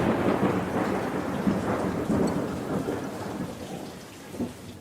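Steady heavy rain with deep rolling thunder in a thunderstorm, a continuous loud wash of rainfall and low rumbles throughout, no voices.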